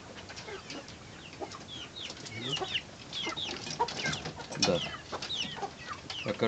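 Chicks peck and cluck while eating dry feed, a busy flock of soft chirps and short clucks overlapping in an irregular stream, with occasional louder calls and light wing flutters nearby.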